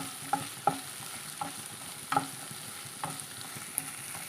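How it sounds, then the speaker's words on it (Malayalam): Chopped green chili sautéing in a pan, with a quiet sizzle under a series of spatula scrapes and taps against the metal, close and unhurried, no voices. "ഇപ്പോൾ ഒരു പച്ചമുളക് അരിഞ്ഞതാണ് നന്നിട്ട് ഒന്ന് വഴറ്റിയെടുക്കാം"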